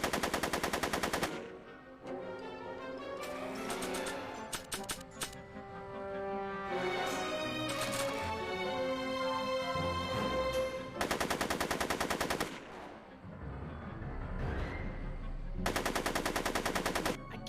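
Machine-gun fire and gunshots from the Back to the Future video game come in loud, sustained bursts, with quieter stretches of in-game sound and music between them.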